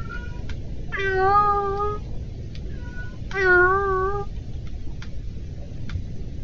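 A person imitates a cat's meow, giving two drawn-out, rising-and-falling meows a couple of seconds apart over quiet video game background sound.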